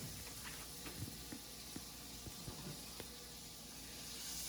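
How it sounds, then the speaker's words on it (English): Butter melting in a cast iron pan gives a steady, faint hiss with soft scattered pops and crackles throughout, close by and without talk. "Use a generous portion of butter here, and we'll let that melt for a second."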